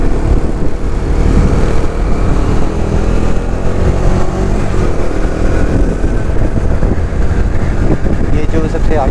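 A Bajaj Dominar motorcycle rides alongside Yamaha R15 V3 and V2 bikes on a Spiti Valley ride, its engine roar buried in loud, constant wind buffeting on the microphone.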